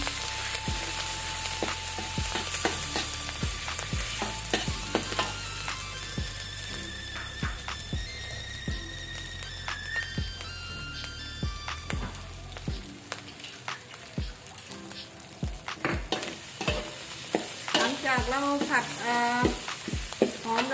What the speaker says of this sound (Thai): เราจะผัดให้หอมเลยนะคะ